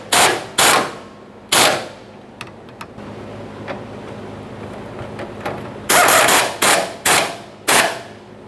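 Bolts on the fuel tank straps of a 1992-1996 Toyota Camry being tightened with a power tool. Several loud, short rattling bursts come near and up close, two at the start, then a quiet stretch, then a rapid cluster of four bursts.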